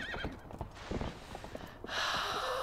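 A horse in the game Zelda Twilight Princess HD gallops with quick, rhythmic clip-clop hoofbeats, then lets out a loud, sustained neigh close up.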